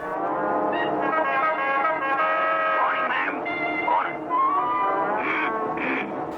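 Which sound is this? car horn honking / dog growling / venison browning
car horn honking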